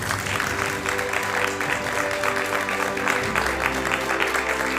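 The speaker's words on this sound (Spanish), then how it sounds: "Un aplauso para, bueno, para tu doctor." Studio audience applause on a Madrid afternoon television talk show, a dense, even wash of clapping over a steady low studio hum that holds at the same loudness throughout.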